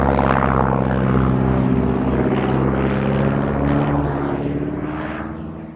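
A de Havilland DH.82A Tiger Moth biplane drones past with a steady, loud propeller engine note that holds for several seconds and slowly fades toward the end.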